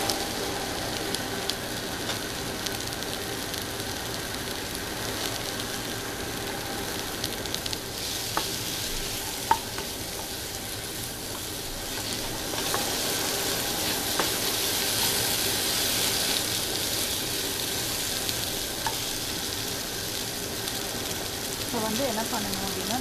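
Green beans sauté in a pan with turmeric and chili powder for a beans and shrimp fry, giving a steady, close sizzle with faint stirring scrapes throughout.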